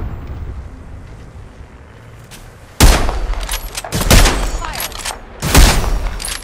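Gunfire in the Apex Legends video game, loud heavy bursts of shots arriving in three separate volleys over a low rumbling background, with faint game voices underneath.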